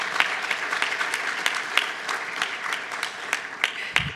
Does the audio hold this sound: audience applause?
yes